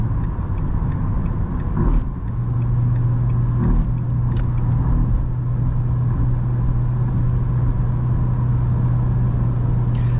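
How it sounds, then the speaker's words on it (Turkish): A Renault Megane 3 Business with a naturally aspirated 110 HP engine drones steadily while climbing a hill, a constant low engine hum with faint mechanical rattles and a brief knock or two, no voices. "Çünkü 3000 devirden sonra motor sesi geliyor."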